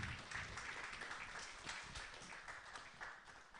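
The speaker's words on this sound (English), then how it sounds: "Another round of applause for our panelists" Audience applause for the panelists at a summer school panel session in Rwanda, a steady, faint, distant wash of many hands clapping throughout.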